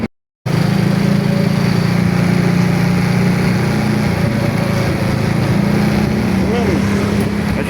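Steady loud motorcycle engine drone while riding, a continuous low hum holding throughout with wind roar on top.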